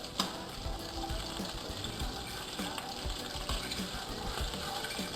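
Garlic and an anchovy fillet fizz and melt in olive oil for a wild fennel pasta, a soft steady sizzle with light bubbling and faint scraping, moderately quiet and close, no voices.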